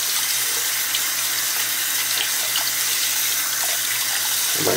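Hot water gushes steadily from a tap into a sink, a continuous loud hissing splash close by, with no voices.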